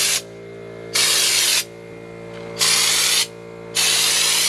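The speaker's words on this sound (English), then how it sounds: "These cans do spray for a long time." Spray cans hiss loudly as they coat a truck with Raptor Liner, three long bursts each lasting about a second or more, close up, separated by quieter pauses with a steady background hum.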